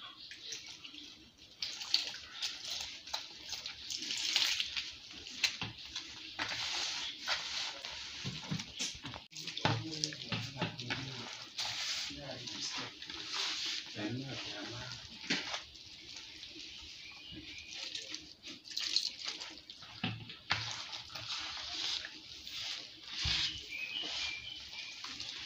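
Warm water poured into a mixing bowl of sugar, salt and juice while making Nigerian puff puff batter, a steady bright splashing stream running for the whole stretch, close and fairly loud with small clinks and shifts.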